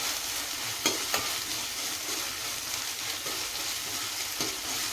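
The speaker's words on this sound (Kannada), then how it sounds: "ನೀವು ಅಷ್ಟೇ ಮಿಕ್ಸಿ ಮಾಡಿಕೊಂಡು ಈ ಥರ ಫ್ರೈ ಮಾಡ್ಕೊಳ್ರಿ ಎಣ್ಣೆಯಲ್ಲಿ" Blended spinach paste sizzles in hot oil in a pan, a soft continuous fry with a few sharp spoon clicks against the pan.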